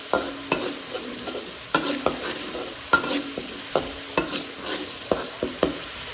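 Anchovy sambal with tofu being stirred in a pan, with regular scraping and knocking of the spoon against the pan over a faint, low sizzle.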